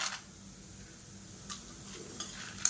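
Dry red chillies and coriander seeds roast in oil in a pan for coconut thuvaiyal, a soft low sizzle with a few light spoon scrapes and stirring clicks, close and quiet, no voices.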